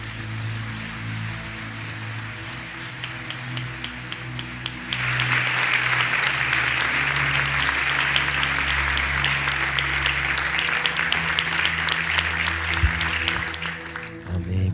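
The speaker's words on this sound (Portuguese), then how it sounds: "Aplauda Jesus bem forte, irmãos." Church congregation at an evangelical service bursts into loud, sustained applause that swells after a few seconds and holds steady, with brief talk audible beneath the clapping.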